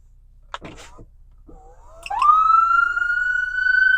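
A 300-watt emergency siren on a 2025 Ford Ranger Raptor EMS vehicle winds up after a few short clicks, then holds a loud, steady, piercing wail at close range.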